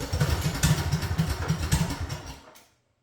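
An 18 hp Briggs & Stratton V-Twin Elite Series 10000-watt generator engine running with a loud, throbbing, rapid low pulse and some clatter, then winding down and falling silent near the end.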